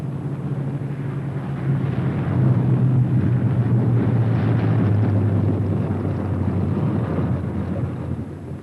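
A B-17 bomber comes in to land with its left inboard engine dead, a steady, loud droning engine roar with a low hum that swells and holds, then eases slightly, with wind rush over it.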